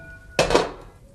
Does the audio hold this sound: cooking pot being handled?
yes